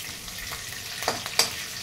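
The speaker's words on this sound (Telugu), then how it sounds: "ఇది ఫ్రై అవ్వాలి" Urad dal and green chillies fry in oil in a pan, a soft steady sizzle with a few sharp crackles and scrapes near the end, close and unaccompanied by speech.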